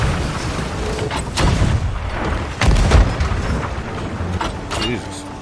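Ship cannons firing in Sea of Thieves: two heavy booms with strong low-frequency thumps about a second apart, loud and close, over a steady game background, with scattered short percussive sounds around them and speech-like sound in the mix.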